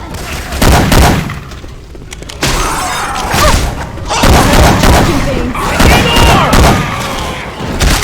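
Gunfire in Left 4 Dead 2 using Syphon Filter weapon effects: loud, irregular volleys of shots and crashing impacts crowd together for several seconds, with short lulls between the bursts.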